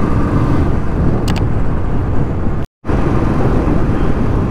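A motorcycle ridden along the Kalka-Shimla highway gives a loud, continuous engine and wind roar with a brief dropout partway through and no speech.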